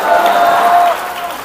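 A church congregation at a Hindi Christian service claps in praise of the Lord, a brief, dense burst of applause with a sustained tonal hum beneath it.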